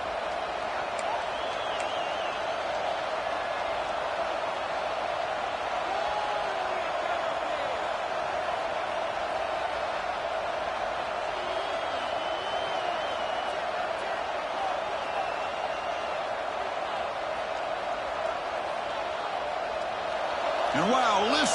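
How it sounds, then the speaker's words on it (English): A steady roar of a large stadium crowd in an Alabama vs. Oklahoma college football video game, loud and continuous throughout with no pauses, swelling slightly near the end. "wow, listen to this crowd noise. This stadium is vibrating."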